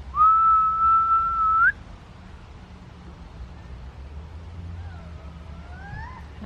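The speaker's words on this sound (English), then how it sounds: "can you make a whistling sound like I am?" A person whistles one long steady note, then a quieter pair of rising whistled tones follows after a pause, over low background hum.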